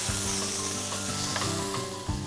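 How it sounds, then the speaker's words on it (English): Finely chopped onions frying in oil while being stirred, a steady close sizzle with a few soft scrapes of the spoon in the pan, no voices. "And give that a good stir."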